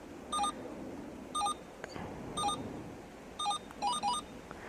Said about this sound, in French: Vous avez l'alarme et donc vous avez une petite sonnerie